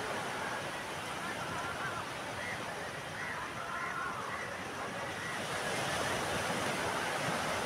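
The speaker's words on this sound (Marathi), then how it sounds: "आत्ता तर इथं खडकावर फुटणाऱ्या लाटा आहेत" Rough sea waves crash against coastal rocks in a continuous, loud roar of surf with wind noise, steady and close throughout.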